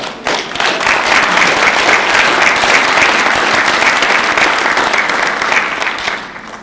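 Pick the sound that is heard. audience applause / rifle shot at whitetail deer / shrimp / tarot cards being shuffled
audience applause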